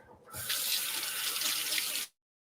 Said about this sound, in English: let me wash my hand again